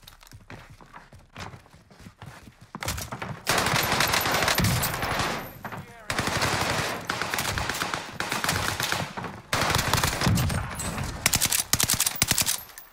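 Rapid bursts of machine gun fire from a Warzone match crack loudly and repeatedly, stopping and starting in dense volleys over a steady game backdrop.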